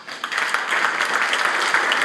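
Audience applause during an event presentation in a hall with guests on a balcony, a steady dense clatter of many hands clapping that swells in and holds at an even loudness for a couple of seconds.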